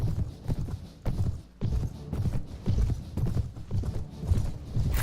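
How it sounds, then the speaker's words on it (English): Horse hooves pound steadily in the Mount & Blade Floris Expanded video game, a rapid galloping clip-clop with a brisk, even rhythm, close and continuous amid faint battle ambience. "Let's test out our new horse."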